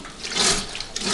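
A 1973 Fridgette washing machine pumping out water, giving a close, continuous splashing gush with a hissy, sink-like wash and a brief swell partway through.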